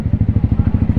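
A Zontes 400G motorcycle engine thrums close and loud while riding, its fast, even low pulses repeating steadily throughout.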